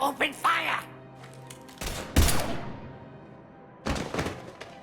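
Gunfire in the video game Mass Effect 3: a few heavy, thudding shots come in separate bursts, with ringing decays and quiet gaps between them.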